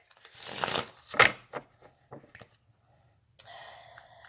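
Tarot cards are shuffled in a few quick riffling bursts, then softer rubbing and tapping, close and fairly quiet with no talking.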